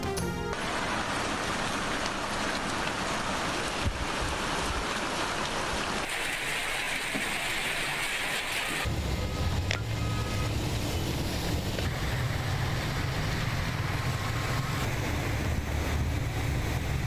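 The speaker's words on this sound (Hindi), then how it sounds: "कराची के मुख्तलिफ इलाकों में मूसलाधार बारिश।" Heavy downpour across parts of Karachi, Pakistan: a steady, loud wash of rain hiss that continues without a break, with no talking and a shift in tone partway through.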